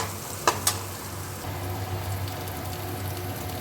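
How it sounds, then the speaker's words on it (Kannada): Onions roast in a pan over low heat, a soft, even sizzle running steadily throughout, with two quick metallic clinks early on, close and alone. "ಈರುಳ್ಳಿ ಸ್ವಲ್ಪ ರೋಸ್ಟ್ ಆಗಲಿ"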